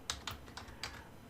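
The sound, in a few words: typing on a computer keyboard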